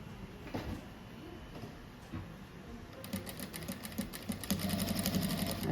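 A sewing machine stitches a simple rug, its fast mechanical needle chatter running steadily and growing louder and denser toward the end, close to the listener with no speech.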